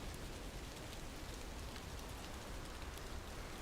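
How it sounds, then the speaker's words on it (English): Heavy rain pours in a steady, dense hiss that stays constant and fairly loud throughout, with no voices. "it's raining hard"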